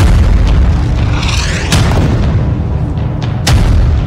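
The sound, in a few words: air strike explosion on Gaza camp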